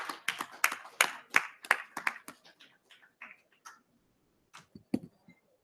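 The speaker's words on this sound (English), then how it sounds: "Can we have some applause, please?" Scattered hand claps from a small conference audience, loud and close at first, then thinning into a few sparse, fading claps with quiet gaps between them.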